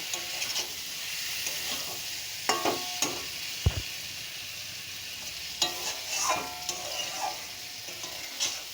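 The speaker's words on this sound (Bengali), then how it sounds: "এটা একটু হালকা হাতে নাড়তে হবে, নাহলে কচু ডাঁটাগুলো পুরো গলে যাবে।" A spoon stirs prawns and taro stems in a hot pan, with soft sizzling underneath and irregular scraping and clinking strokes, one sharper knock among them, close with no talk.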